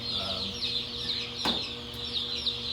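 A dense chorus of many chickens clucking and chirping together inside a poultry house holding about 6,000 birds, steady and moderately loud, with a brief sharp clatter in the middle.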